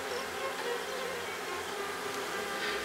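Honeybees hum in a steady, dense buzz at a populated nucleus hive, a continuous close drone with no voices.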